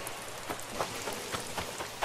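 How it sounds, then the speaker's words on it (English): Rain falls in Animal Crossing: New Horizons, a steady hiss of light pattering drops with soft irregular splashes, even and continuous for a couple of seconds, no talk. "Raining."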